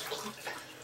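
Tap water runs and splashes into a bathtub while a dog is being bathed, a short burst of rushing, gurgling water heard up close.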